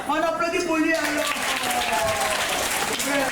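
Schoolchildren applauding at a clown show in a school, a dense burst of clapping under an adult voice speaking over it, close and continuous for a few seconds.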